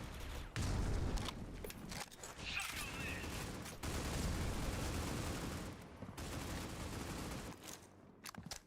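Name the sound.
gunfire in a video game esports match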